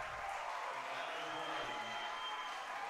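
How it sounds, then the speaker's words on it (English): A crowd cheers and applauds after a Callahan in an ultimate frisbee game between the Portland Stags and Seattle Rainmakers, a steady, distant roar of voices that holds for several seconds. "the crowd on their feet celebrating that one"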